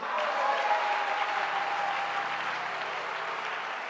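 A church congregation applauding to acclaim the Lord, with dense, sustained clapping from many hands filling a large room at an even level throughout.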